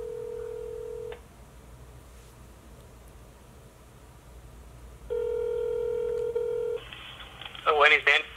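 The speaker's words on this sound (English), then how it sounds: "it's keep ringing, like, but then no one's picked the call" A telephone rings out on an unanswered outgoing call: two long, steady ringback tones separated by a quiet gap, followed by a brief burst of other tones and a voice at the end.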